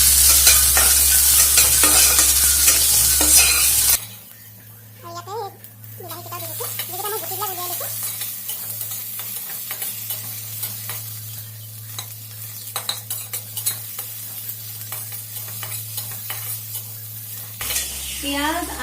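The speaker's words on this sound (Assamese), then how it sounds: "এতিয়া অকণমান ৰঙা হোৱাকৈ ভাজি ল'ম।" Cashews, onion, ginger and garlic fry in a pan with steady sizzling under stirring, with brief utensil scrapes; a louder burst opens and closes the stretch while short vocal-like tones sound faintly midway.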